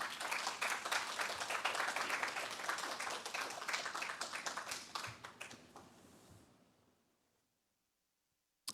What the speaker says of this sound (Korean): 자, 영광의 박수로 모시겠습니다